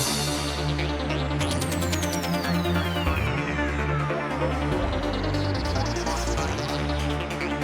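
Outro of a Goa trance track: a dense, loud electronic mix with a driving kick pattern, layered synths and a long falling sweep, playing continuously with no voices.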